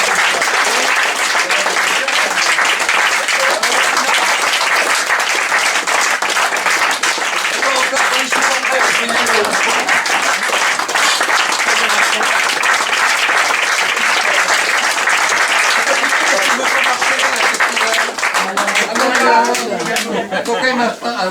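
Theatre audience at a comedy applauding, dense sustained clapping filling the whole stretch at steady loudness, with a voice emerging near the end.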